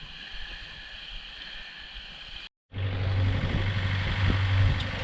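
A sailboat's engine drones steadily while motoring toward Stromboli in the Aeolian Islands, cutting out briefly before returning louder with a deep, constant rumble and wash of wind and water.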